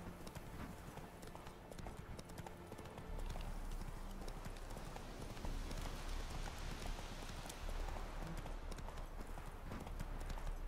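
Horse hooves galloping in The Witcher 3, a fast, steady clip-clop that runs unbroken and fairly loud over a dense, rain-like wash of game ambience.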